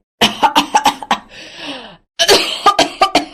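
A woman coughs because of dust: a quick run of harsh coughs, a short wheezy breath, then a pause and another burst of close, loud coughing.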